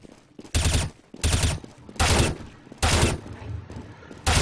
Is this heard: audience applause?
no